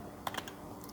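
Several quick keystrokes on a computer keyboard while typing a short line of text during a C++ coding lesson, a brief cluster of close, crisp clicks.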